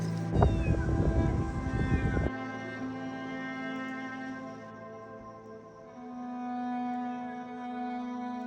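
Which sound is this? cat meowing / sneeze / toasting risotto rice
cat meowing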